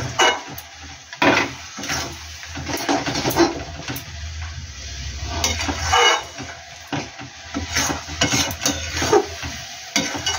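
A spoon stirring jaggery into sour jujube pickle in a pan, scraping and clinking against the metal with soft sizzling, irregular strokes close by and moderately quiet.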